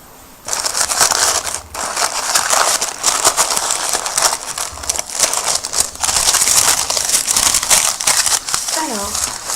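Glossybox beauty box packaging crinkles and crunches as it is handled and unwrapped, loud close rustling in dense bursts with brief pauses, under occasional talk.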